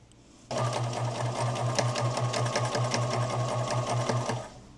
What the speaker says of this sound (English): I am gonna stitch everything wrong sides together